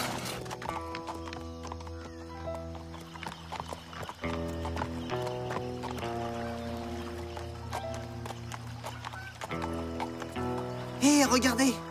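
Horses on a ranch clip-clop with steady hoof beats while a horse neighs loudly near the end, all under continuous talk and background sound.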